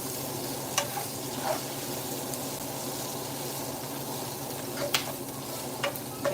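Philly cheesesteak pasta gets a last stir in the pan, a steady soft sizzle with a few light spoon scrapes and taps scattered across it.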